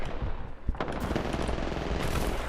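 Dense automatic gunfire in a video game shooter, loud and continuous bursts with sharp individual shot cracks layered through the whole stretch.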